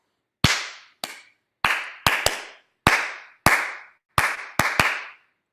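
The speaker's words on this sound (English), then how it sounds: "I'm going to be doing a lot of clapping" One person claps sharply alone over a Zoom call, about ten crisp, separate claps in an uneven rhythm, some in quick pairs, each ringing briefly before silence.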